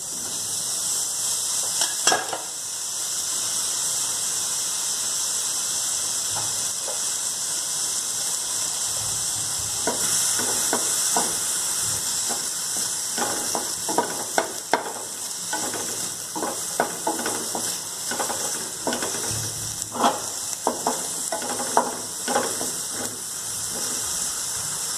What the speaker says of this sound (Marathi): त्यामध्ये आपण थोडंसं तेल टाकून घेऊया, यामुळे ते छान भाजले जातील।